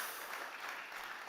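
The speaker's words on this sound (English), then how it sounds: "Big applause for that." Audience applause at a startup conference stage session, a steady wash of many hands clapping, fairly faint and distant, with no voices over it.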